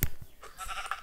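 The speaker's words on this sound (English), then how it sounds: "We have sheep." Sheep bleating in the video game Minecraft, a short close call ringing out once at the start and fading into a faint, steady game ambience.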